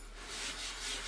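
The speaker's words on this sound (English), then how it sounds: "scrape things off, it does seem to work" A soft, close scraping rasp, brief and steady, as a tool scratches dust off a 3D-printed plastic part.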